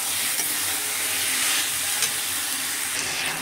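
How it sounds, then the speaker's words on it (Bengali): Fried potato and cauliflower sauté in spice paste with a dense, continuous sizzle and hiss, close and steady, with faint stirring scrapes underneath. "দিয়ে এবার আমি এটাকে কিছুক্ষণ ধরে ভালো করে মশলার সাথে কষিয়ে নেব।"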